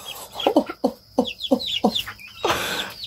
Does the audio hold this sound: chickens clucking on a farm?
yes